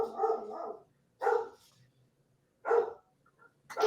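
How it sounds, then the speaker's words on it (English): A dog barks in several separate bursts spaced by pauses, moderately loud and fairly close, with a little softer whining between barks. "I heard the dogs and just reflexively thought, animal sound, must be mine."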